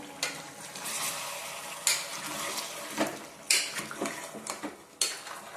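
A spoon scrapes and clinks against a metal pot of mutton curry in irregular strokes, with a few sharper knocks amid a steady soft background hiss.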